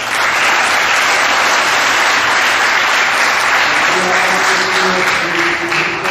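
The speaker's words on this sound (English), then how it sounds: "give them a round of applause" A school awards-assembly crowd gives loud, continuous applause for a middle-school 8th grade track team, league champions, dense clapping filling the whole stretch with a few voices surfacing near the end.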